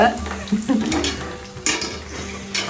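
Drumstick pieces fry in a pan with a steady sizzle, broken by scraping stirs and light clinks of a utensil against the pan, close and moderately loud.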